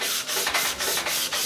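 Steady rhythmic sanding of a car bumper, a harsh abrasive scrub repeating about every quarter second, close and loud with no voices.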